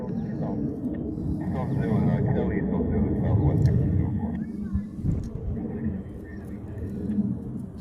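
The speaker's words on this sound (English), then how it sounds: "they're doing a complete 360 over the airfield" Military fighter jets, F-22, F-35 and F-16, circle over an airfield in Hawaii, their engines a steady, distant rumbling roar that swells and fades, with people talking over it throughout.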